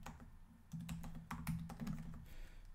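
Fingers typing on a computer keyboard, a quick run of soft clicking keystrokes in small bursts, close and fairly quiet, with no talking.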